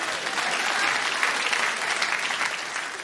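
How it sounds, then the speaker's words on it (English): Comedy show audience applauding, steady dense clapping that fills the whole stretch with no voices standing out. "Yeah, you applaud."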